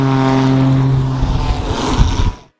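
A propeller plane drones loudly and close, a steady buzzing engine tone that fades out over a couple of seconds.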